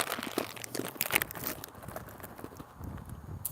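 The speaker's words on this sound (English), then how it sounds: "So I brought me a snack out here to enjoy with y'all. And they're crunchy." Cold ginger snap cookies crunch between the teeth in sharp, close, crackly bursts, several quick bites in the first second and a half, then quieter chewing.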